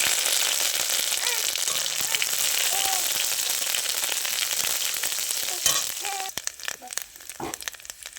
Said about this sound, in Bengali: এবার কড়াইতে সর্ষের তেল দিয়ে দিয়েছি, এবার গোটা জিরা শুকনো লঙ্কা দিয়ে দিলাম।